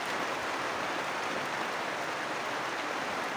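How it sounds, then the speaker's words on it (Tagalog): Steady rain pours down outdoors, a dense even hiss that fills the whole stretch with no gaps and no voices. "Silong muna tayo kasi umuulan."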